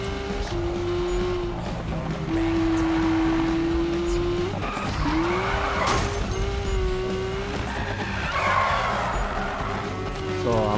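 A car drifts in a Need for Speed 2015 drift contest, with a steady engine drone and long tire squeals that rise and shift in pitch, while someone talks over the game audio.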